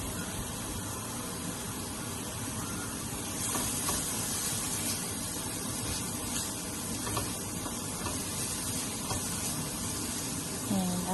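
Minced pork sautéing in a hot pan, a continuous close hiss and sizzle of frying meat, steady throughout with faint stirring scrapes and no talking.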